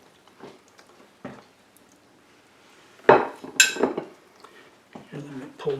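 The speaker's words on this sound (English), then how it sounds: "Let me get a spoon here and I'll serve us some up." A serving spoon scrapes and clinks against a casserole dish while scooping out a fresh-from-the-oven sausage gravy biscuit casserole, with a few sharp knocks and scrapes in the middle among quieter handling noises.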